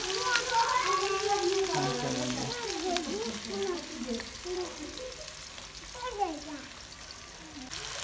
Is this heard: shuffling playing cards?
no